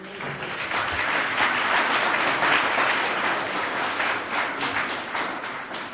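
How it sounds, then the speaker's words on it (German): Steady applause from a gathered audience at an information evening, dense clapping holding at an even level for the whole stretch with no voices standing out. "Es hat wahrscheinlich auch einen Applaus verdient"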